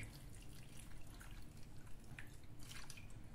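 Water poured into a cooking pot of fish paksiw with salt and seasoning, a steady close liquid splash and trickle with light dripping throughout, no voices.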